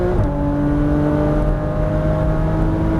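Porsche Cayman GTS engine droning steadily from inside the cabin on a track, a loud sustained whirring hum with a slight change in pitch as it upshifts.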